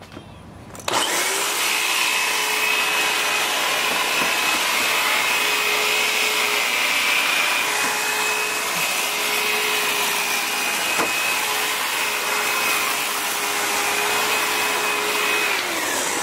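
A powered hedge trimmer cutting bushes starts up and runs as a loud, steady buzzing whine for about fifteen seconds, close by, with a faint brief knock partway through and no speech.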